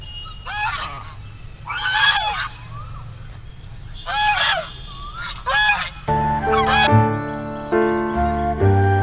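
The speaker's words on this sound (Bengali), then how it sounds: "মন্দির সংলগ্ন এরিয়াতে এই রাজহাঁস রাজহাঁস কিন্তু এখানটার সৌন্দর্য অনেকাংশে বৃদ্ধি করেছে" Domestic geese near a temple give a series of loud, nasal honks in uneven bursts, some overlapping, followed by a sustained droning tonal sound that continues under the final calls.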